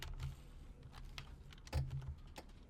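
Several students tap away on computer keyboards in a classroom, a quiet, steady patter of keystrokes with irregular bursts and no talking.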